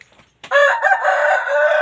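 A rooster crows loudly and close at a chicken farm in Thailand, one long sustained cock-a-doodle-doo after a brief quiet moment.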